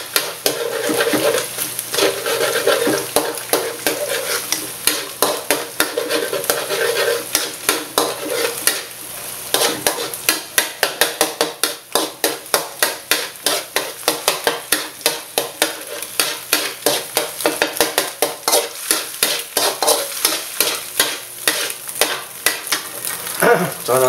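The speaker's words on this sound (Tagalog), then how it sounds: "Ihalo maigi yung itlog para hindi siya magdikit-dikit." Egg being stir-fried for seafood fried rice: close, loud, steady sizzling with rhythmic scraping and clanking of a utensil against the pan throughout, no talking.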